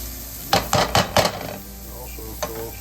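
Garlic cooking in a pan for curry chicken, a low sizzle beneath a quick burst of four scraping stirs, then a pause and one more scrape.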